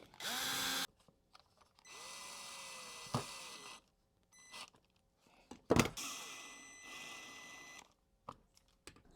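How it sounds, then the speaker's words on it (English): A power drill boring a hole into the back of a wooden challenge coin memorial display box, running in several short whirring bursts separated by pauses and small knocks, close and moderately loud. "So I had to drill a hole in the back."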